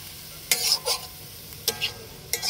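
A spoon stirs Bengali-style pumpkin and shrimp curry in a pan, giving three quick, close scraping strokes over a quiet simmer.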